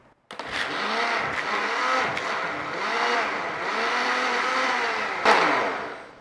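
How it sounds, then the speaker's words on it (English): A kitchen blender whirs at full power through a spinach sauce with chili, a loud, steady grinding drone whose pitch dips and rises in waves as the blades churn, starting abruptly after a short quiet moment. "So let's give that a blend."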